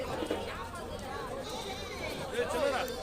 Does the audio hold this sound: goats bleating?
yes